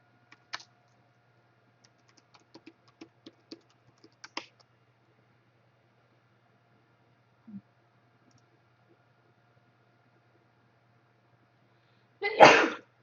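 A single loud person's sneeze bursts out near the end, after quiet keyboard typing and clicks.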